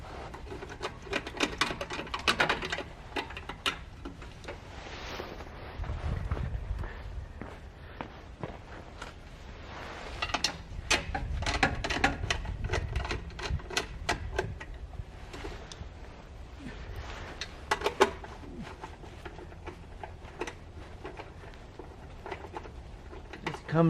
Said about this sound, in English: I'm just going to go and take off the screws.